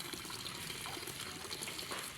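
Water gushes up from underground at a hand-dug pipe well, a steady broadband rush with no clear pauses, fairly faint and continuous.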